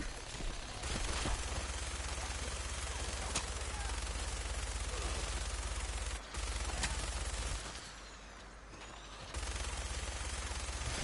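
Sustained rapid automatic gunfire in a modded Fallout 4 game, dense and loud, with a couple of brief pauses and a short lull near the end before the shooting resumes.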